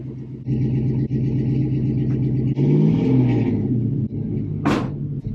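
An LS-swapped 1986 Chevrolet C10 pickup engine runs close up with a steady rumble, rises in a throttle rev midway, then gives a brief sharp high sweep near the end. No one speaks.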